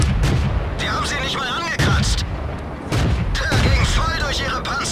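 Tank cannons firing in the World of Tanks video game, heavy booms landing every second or two amid continuous battle noise, with people talking over the shots.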